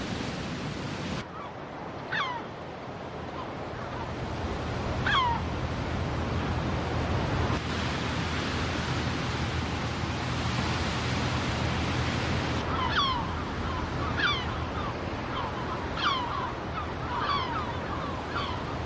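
Sea waves surging and crashing against the rocky Galician coast where percebe gatherers work, a steady loud roar of surf with gusts of wind and seabirds calling intermittently over it.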